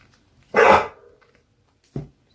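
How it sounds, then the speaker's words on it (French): A dog barking at a window indoors: one loud, close bark, a short pause, then a second, shorter bark. "Le chien qui s'énerve à la fenêtre."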